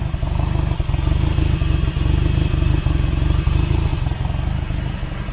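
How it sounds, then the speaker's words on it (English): Honda K24A engine swapped into a Toyota MR2 idles roughly in cold weather, a close, loud, low lumpy chugging with uneven pulses throughout and no voices. "It sounds a little crappy right now because I need to adjust the idle"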